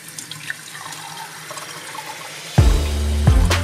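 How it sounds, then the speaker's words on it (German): Tap water runs into a shaker, a steady splashing gush that begins partway through after quiet room noise and continues to the end. "So, erstmal schön Wasser einfüllen."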